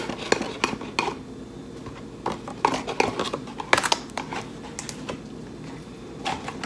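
Utensils clink and scrape against a bowl as ingredients are mixed together, a quick irregular run of close clatters with brief pauses between.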